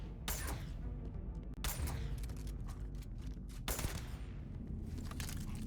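Gunfire in Starfield, heard as three separate sharp bursts of shots spaced a couple of seconds apart, fairly distant and set against a steady low background rumble.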